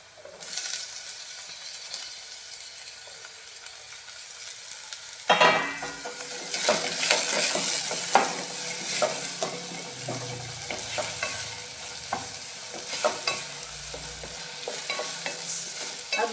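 Tomatoes hit a hot pan of onion and chili for Goan amot tik, bursting into a loud sizzle after a quieter stretch, with stirring scrapes and crackling fry continuing steadily.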